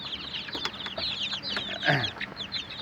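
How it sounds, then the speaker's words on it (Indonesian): Many two-week-old chicks chirp continuously in high, overlapping peeps, close and fairly loud, with a busy flock bustle underneath. "Ini anak ayam yang telah berumur 2 minggu atau 15 hari."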